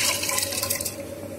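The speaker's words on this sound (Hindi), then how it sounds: "अब मैं इसको कुकर में डाल दूंगी दाल को" Water and washed moong dal pour into a metal pressure cooker with a bright, splashing gush that fills steadily and then eases off.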